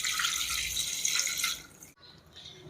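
Water runs steadily into a bowl for about two seconds, a close, hissing splash that stops abruptly, followed by faint kitchen background.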